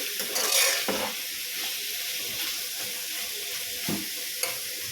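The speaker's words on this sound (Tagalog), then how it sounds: "nilagay ko na yung giniling. Ayan, saute natin yan hanggang sa matuyo." Ground meat sautés in a pan for pancit, with a continuous soft sizzle and crackle joined by a few sharp scrapes of a stirring utensil against the pan, heard close with no talking.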